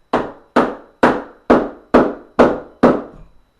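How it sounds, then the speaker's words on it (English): A hammer taps parts of an elevated dog bed frame together, seven sharp evenly spaced knocks about half a second apart, close and loud, with the last one ringing out slightly longer. "Now here's where I am going to use the hammer a little bit."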